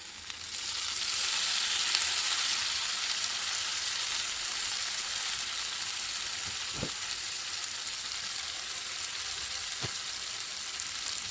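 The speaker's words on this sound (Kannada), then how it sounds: "ಲೆಮನ್ ಹಾಕಿದ ಮೇಲೆ ಇದನ್ನು ಸ್ವಲ್ಪ ಮಿಕ್ಸ್ ಮಾಡ್ಕೊತಾ ಇದ್ದೀನಿ ಅಷ್ಟೇ" Lemon rice seasoning being stirred in a pan after lemon juice is added, a steady soft sizzle and frying hiss throughout with two faint clicks of a spoon, no voices.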